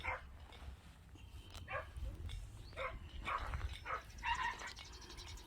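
A dog gives several short, yappy barks at irregular intervals, fairly faint and distant over a low background rumble.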